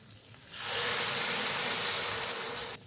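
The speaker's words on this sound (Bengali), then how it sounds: "এখন দিয়ে দেব পরিমাণ মতো জল।" Water poured into a hot pan of egg pulao sets off a loud, sustained hiss of steam and sizzle that lasts a couple of seconds and then stops abruptly.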